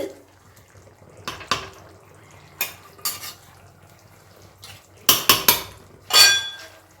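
Cabbage and fish head curry with potatoes and chopped coriander being stirred in a pan: a series of loud scraping clangs and knocks of a spoon against metal, clustered in bursts, with no talk.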